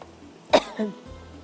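A single sharp cough, followed by a softer throaty cough, close by, with quiet room noise around it.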